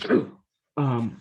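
A single short, breathy sneeze burst, followed after a brief pause by a voice speaking close by.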